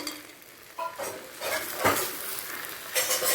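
Soaked rice being stirred and fried with spices and a fish head in a pan makes a close scraping, rustling sizzle with bursts of louder stirring strokes.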